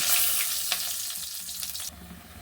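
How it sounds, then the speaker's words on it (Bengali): Lentil dumplings (kalai bori) frying in the same oil used for fish, a close, steady sizzle with light stirring taps that eases off near the end, no talking. "ওই একই তেলে কলাইয়ের বড়িগুলো আমি ভেজে নেব"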